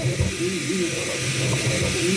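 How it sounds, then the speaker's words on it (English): A FLSUN T1 Pro 3D printer runs loudly and continuously, a steady motorized buzz and whine with shifting tonal sweeps from its fast-moving motors, holding at an even, close level throughout. "the fact that I can still hear it tells you that this printer, yeah, it's plenty loud"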